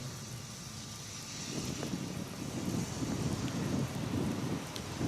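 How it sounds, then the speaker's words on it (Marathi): A steady, dense hiss of heavy rain falling continuously in Mumbai, growing a little fuller partway through, heard alone without voices. "मुंबईत सध्या पहाटेपासूनच आहे तो पाऊस जोरदार बॅटिंग पावसाची सुरू आहे"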